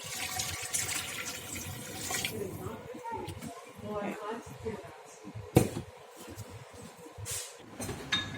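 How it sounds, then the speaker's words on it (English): Water pours and splashes into a soup pot while a person talks over it, with a few clinks near the middle. "you also want to add on top of that about 2 cups of water"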